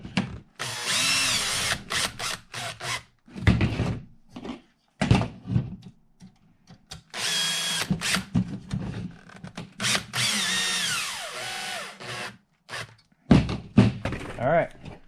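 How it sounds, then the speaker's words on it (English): A power drill drives screws to fit a battery tray onto an Axial Ryft RC monster truck, with short whirring bursts and tool knocks between stretches of someone talking nearby. "Now we're going to switch drills."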